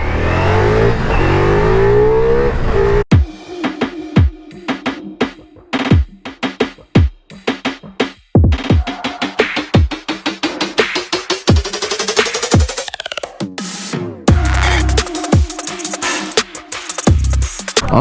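A Ducati Multistrada V4 motorcycle engine revs hard and close, with sharp throttle blips, rising and falling pitch sweeps and rapid bursts of acceleration that stay loud for most of the stretch.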